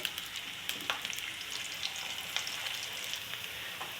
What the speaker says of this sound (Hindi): चलिए व्यूअर्स अभी इसमें प्याज डालूँगी